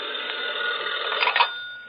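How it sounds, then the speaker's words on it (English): An old-fashioned telephone bell rings in one continuous metallic trill, loud and close, a 1940 radio drama sound effect standing alone without speech. "where he got an expected telephone call."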